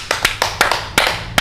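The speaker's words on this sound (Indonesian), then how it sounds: "Tepuk tangan." Six or seven separate hand claps, sharp and close, spaced unevenly over a second and a half in a quiet room.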